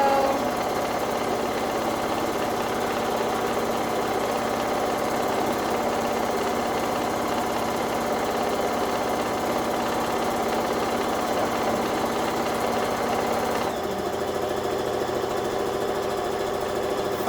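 A Bernette B77/B79 sewing machine runs continuously for free motion quilting, a loud, steady mechanical whir with a fast stitching rhythm that shifts slightly in pitch near the end.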